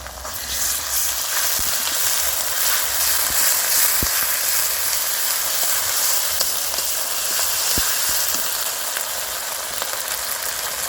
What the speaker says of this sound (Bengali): আদা ও রসুন খুব ভালো করে ভেজে নিয়েছি